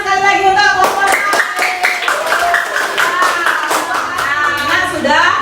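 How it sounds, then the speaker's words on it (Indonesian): Classroom students clapping for a group, a few distinct hand claps standing out over a child's or teacher's voice that talks across most of the clip. "tepuk tangan sekali lagi untuk kelompok 4"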